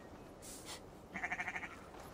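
A sheep in Assassin's Creed Valhalla gives one short, wavering bleat with a rapid pulsing quiver, fairly faint over quiet ambient game sound.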